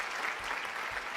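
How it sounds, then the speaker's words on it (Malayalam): Studio audience applause at a televised game show, a steady dense patter of clapping hands held at an even level for the whole short stretch, with no talk over it. "ഒരു നല്ല കൈയടി കൂടി കൊടുത്തേ"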